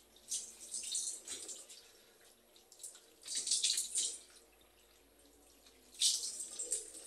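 Water running and splashing in bursts during wudu washing of the nose, three separate surges of tap water and splashing with quieter gaps between, close by and alone.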